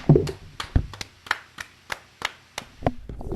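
Single hand claps sound at a loose, uneven rhythm, about ten sharp near claps spread apart with quiet gaps between them.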